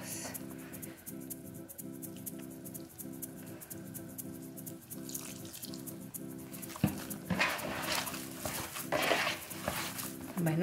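A spoon stirs a ground chile, garlic and oregano mixture for homemade chorizo, with soft repeated scraping and sloshing strokes in a bowl that grow busier and louder toward the end.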